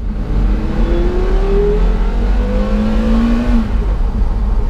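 A Porsche Carrera GT V10 engine, derived from a Le Mans race car, revs loud and close. Its tone climbs smoothly twice, with a rising whir over a deep rumble.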